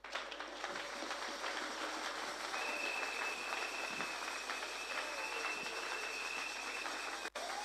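A church congregation applauds for Jesus in a steady, sustained wash of clapping that holds at an even level throughout, with a faint tone lingering underneath.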